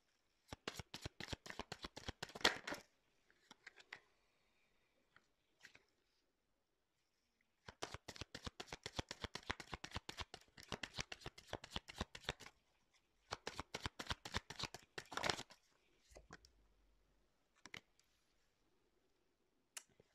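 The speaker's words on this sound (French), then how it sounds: "Je fais mes petits tirages et après je vous dis ce qu'il en est." Tarot cards shuffled and drawn by hand: three long bursts of rapid riffling, dense crisp card flutter near and loud, separated by quiet gaps holding a few soft slaps and flicks of single cards laid down.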